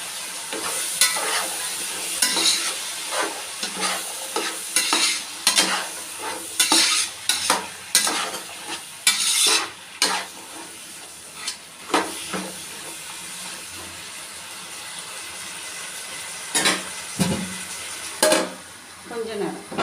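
Vegetables for vegetable biryani frying in a pan with ginger-garlic paste, with a steady sizzle and hiss under repeated close scraping stirs of a utensil against the pan. Occasional speech is heard over the cooking.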